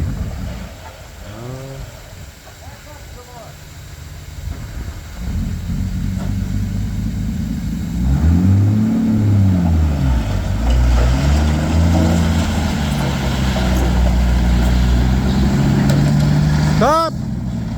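A vintage Bombardier snow vehicle's engine idles and then revs in rising and falling surges, loud and close, with people talking over the rumble.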